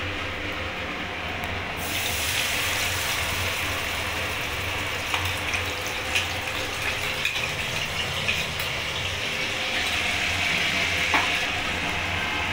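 Ground spice paste with mustard frying in oil with black cumin for an ash gourd dish, a loud dense sizzle that swells after a moment, with faint stirring clicks scattered throughout.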